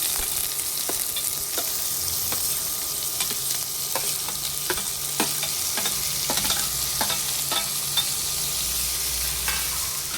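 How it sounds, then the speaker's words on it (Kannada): Mustard seeds crackling in a hot pan with onion and tomato, a steady loud sizzle peppered with sharp irregular pops and stirring scrapes throughout, no voices. "ಸಾಸಿವೆ ಚಟಪಟ ಅಂತ ಸೌಂಡ್ ಬರುತ್ತಲ್ಲ, ಆವಾಗ ಆನಿಯನ್ ಮತ್ತು ಟೊಮೆಟೊನ ಹಾಕ್ಕೊಳ್ಳಿ"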